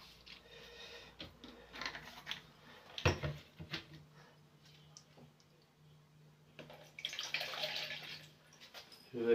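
Descaler liquid is poured into a container and mixed for cleaning a steam generator iron, with close, quiet trickling and splashing in uneven bursts. Scattered clicks and knocks of handling come in between.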